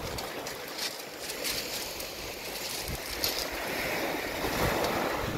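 Strong wind roars steadily across the microphone over crashing surf on the central beach at Kastropol, a constant broadband rush with occasional gusts swelling louder toward the end.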